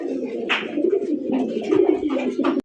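A male and female pair of Russian Angel fancy pigeons coo loudly and close, producing continuous throaty rolling calls with a few sharper accents before they stop abruptly.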